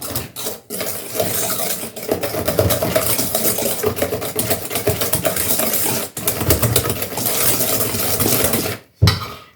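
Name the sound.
mixing mascarpone for tiramisu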